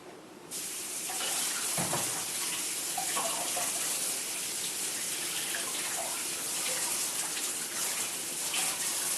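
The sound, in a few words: water washing knife and whetstones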